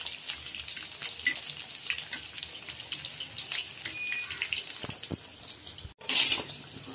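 Vadas sizzling in hot oil in a kitchen, a steady crackling hiss with brief louder bursts as the lentil fritters fry and are turned, no voices over it.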